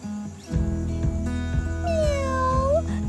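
A cartoon cat's meow, probably voiced by a person imitating it, rises and bends over a steady musical background in a children's storybook narration, heard once clearly near the end.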